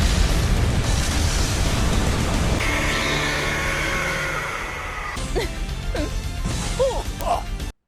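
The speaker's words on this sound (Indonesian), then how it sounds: "Dan seketika ledakan besar pun terjadi di dalam arena pertarungan" A big explosion erupts in an anime battle arena in Record of Ragnarok, a loud sustained crashing roar that gradually thins into rumbling debris and scattered whooshing and crackling effects.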